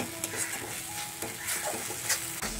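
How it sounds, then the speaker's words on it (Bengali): Spice paste sizzles steadily in oil while being stirred and sautéed in a pan, a close, continuous frying hiss with soft scraping strokes and no talk, part of a rohu fish dish with yogurt and cashew paste. "আরও একটু আমি ভালো করে কষিয়ে নেব।"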